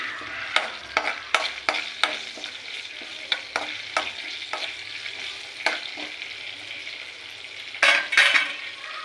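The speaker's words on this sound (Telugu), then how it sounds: "ఇలా అన్నీ తాలింపు వేసుకుని ఫ్రై అయిపోయేదాకా వేయించుకోవాలి." Spices sizzle and crackle in hot oil while a spoon scrapes and taps the pan in irregular strokes, close and clear.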